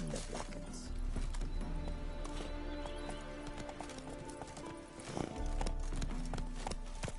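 Hooves of a horse galloping across terrain in The Witcher III, a rapid, steady clip-clop rhythm close by, mixed with game ambience and a brief whinny-like sound.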